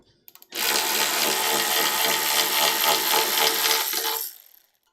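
A power tool whirs on an oil pan bolt of a Jeep 4.0 engine being rebuilt. A few quick clicks come first, then one continuous loud, buzzing run lasting about four seconds that stops abruptly.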